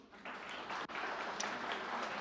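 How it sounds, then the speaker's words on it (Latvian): Audience applause at the opening speeches of the Mājoklis 2025 event, a steady wash of many hands clapping that runs through the whole stretch with one brief dip midway. "aplausi lūdzu."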